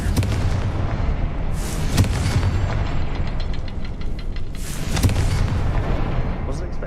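Confringo blasting curses go off in the video game Hogwarts Legacy, two booming explosions with bright crackling bursts about three seconds apart over a dense, loud rumble of combat noise.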